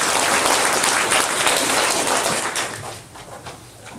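Loud congregation applause fills a Korean church sanctuary during a sermon, a dense continuous clapping that stays strong for a few seconds and then thins and fades toward the end.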